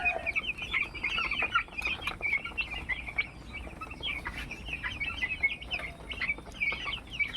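A flock of about 300 twelve-day-old broiler chicks in a pen, cheeping and clucking continuously in a dense, close chorus of overlapping high calls with no talking.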